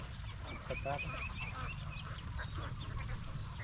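Ducklings (itik) in their pen give off faint, high peeping chirps in short scattered bursts over a steady low background hum, with a soft voice murmuring at points.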